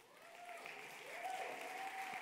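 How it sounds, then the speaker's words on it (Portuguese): Clapping from a church congregation at a Brazilian evangelical service, steady and moderately distant, with a faint held tone running beneath it. "Dá uma salva de palmas aí."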